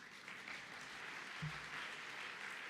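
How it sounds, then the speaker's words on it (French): Audience applause at a regional political congress: a steady, dense patter of many hands clapping across a large hall, sustained throughout at an even level, with no speech over it. "Et je ne vois pas pourquoi vous ne les applaudiriez pas non plus."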